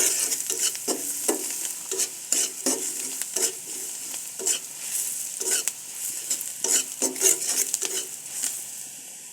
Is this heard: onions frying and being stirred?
yes